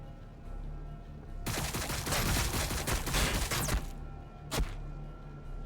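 Rapid bursts of gunfire from the Warhammer 40k: BattleSector strategy game, a dense volley lasting a couple of seconds, then a single sharp shot after a short pause.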